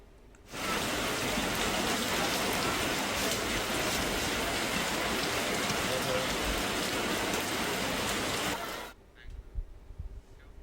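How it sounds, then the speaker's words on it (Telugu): A heavy downpour in Hyderabad roars as a dense, unbroken hiss for about eight seconds, then cuts off, leaving quieter scattered sounds behind. "నిన్న హైదరాబాద్ లో కుండపోత వాన పడింది"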